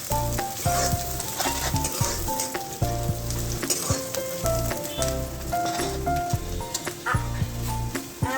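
Pulao rice frying in a pan in a home kitchen, giving a steady, low sizzle that runs continuously under louder background music.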